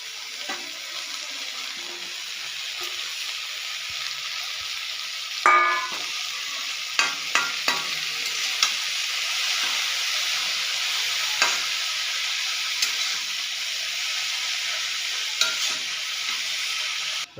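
Bitter greens stir-fry in a pan with a steady, even sizzle, broken by occasional clicks and scrapes of stirring and a brief clatter.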